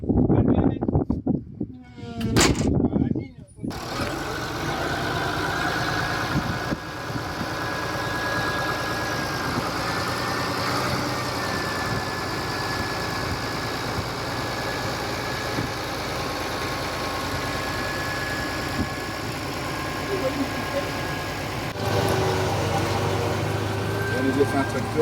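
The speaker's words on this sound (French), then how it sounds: "On nous a fait un tracteur." Tractor engine idling in a vineyard, a steady low rumble running throughout under frequent nearby French chatter and some singing.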